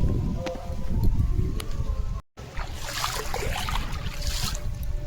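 Leafy greens are rinsed and swished in river water in a Sundarban village, a close, continuous splashing and trickling with rustling leaves and a brief break partway through.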